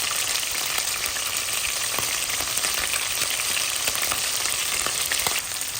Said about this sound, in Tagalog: Gisa-gisa natin together with chicken